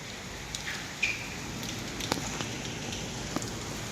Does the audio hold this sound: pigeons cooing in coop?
no